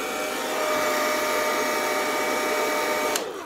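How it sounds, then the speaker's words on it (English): A blow dryer runs continuously with a loud, steady whirring roar and high motor whine, close up, ending with a brief click. "you're going to use the blow dryer"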